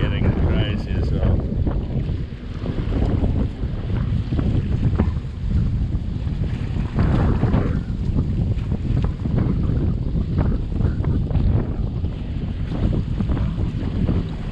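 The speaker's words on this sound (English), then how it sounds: "See, the wind is getting crazy as well." Strong wind roars across the microphone at Durban's North Pier, a loud continuous buffeting rumble with gusts, and faint surf and voices mixed in underneath.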